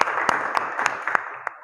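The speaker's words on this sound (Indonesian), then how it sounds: "Tepuk tangan." Several people clap in a short, loose burst in a classroom lesson, each hand-clap sharp and close, spaced irregularly over a steady room hum.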